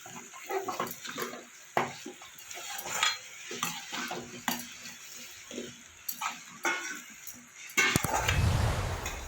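Cabbage curry being stirred in a pan with a utensil, giving repeated scraping and clinking strokes close by, ending in a louder burst of sizzling.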